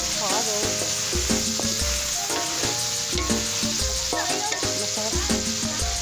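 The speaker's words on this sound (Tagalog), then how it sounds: "Kaya halo na natin dito yung ating patatas at carrots." Chicken with potatoes and carrots being stirred in a hot frying pan: a steady, close sizzle runs throughout, broken by repeated clinks and scrapes of a utensil against the pan.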